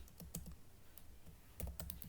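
Keys clack on a computer keyboard as an SQL insert query is typed, a few quick bursts of keystrokes separated by a pause, close and moderately quiet.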